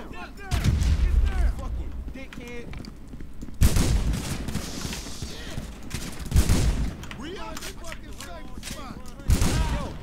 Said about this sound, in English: Fragmentation grenade. Frag out.